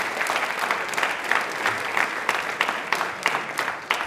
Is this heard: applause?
yes